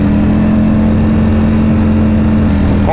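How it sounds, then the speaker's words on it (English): A sport motorcycle exhaust, a Ducati Panigale V4 or an Aprilia RSV4, holds a loud, close, steady droning note with a strong low hum and no break or talking. "the exhaust note, I hear more bass"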